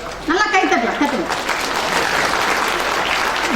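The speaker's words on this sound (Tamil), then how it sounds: "நல்லா கைத்தட்டலாம், தட்டலாம்" An audience at a speech event breaks into loud applause right after a voice, with dense clapping swelling and continuing steadily to the end.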